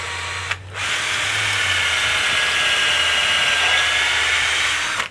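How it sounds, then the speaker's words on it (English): A power drill fitted with a 7/32 bit bores into soft cedar, a brief whir then a sustained high, steady whine for about four seconds before stopping, close and loud with no speech. "I got a 7/32 drill bit in the drill."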